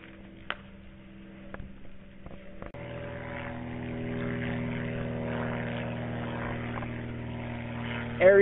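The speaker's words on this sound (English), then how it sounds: "Aerial coverage provided by single engine planes and hang gliders." A single-engine propeller plane passes overhead, its steady droning hum starting faint and turning fuller and louder partway through, then holding constant with no voices.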